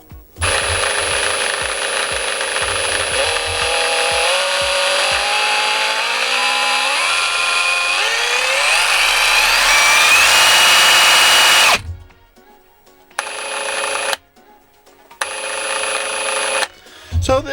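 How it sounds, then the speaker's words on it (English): A Ryobi PBLRS01B reciprocating saw runs loud and steady with no talk, its whine rising as the speed is stepped up, then cut into several short bursts separated by brief pauses. "the variable speed on this particular reciprocating saw is actually quite good, and it's fairly easy to access all the speeds"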